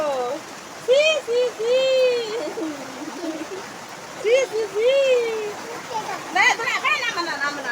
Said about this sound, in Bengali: বৃষ্টি পড়তেছে বাবা